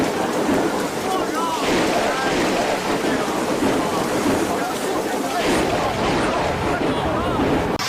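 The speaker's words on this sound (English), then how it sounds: "thunder rolled across Beijing, rain, hail, lightning flashing non-stop" A thunderstorm in Beijing pours heavy rain and hail in a dense, constant roar, with low rumbles of thunder rolling underneath, loud and close throughout.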